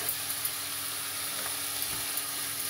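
Beef samosa filling, seasoned with salt and pepper, sizzles in a pan, a steady bright hiss with faint crackles and occasional soft pops, close and even throughout.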